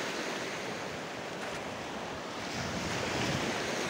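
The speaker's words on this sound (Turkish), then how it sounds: "Deniz normalde dalgalı ama şu anda hafif bir dalga" Gentle sea waves wash onto the stony Cunda beach at Ayvalık, a steady broad roar of surf mixed with wind noise on the microphone.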